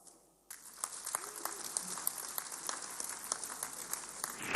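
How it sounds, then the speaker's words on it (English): An audience at a public lecture gives a round of applause, a steady spread of clapping with sharper individual claps over a roomy background, moderately distant and sustained. "I'd like us to give a round of applause to our venue host"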